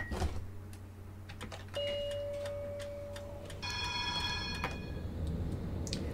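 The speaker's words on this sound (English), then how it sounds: "just wait until I close the doors" A tram's door-closing warning chime sounds in the Tramsim simulator on Vienna route 1, a sustained tone followed by a bright multi-tone chime over a low steady hum and scattered ticks, with no talk.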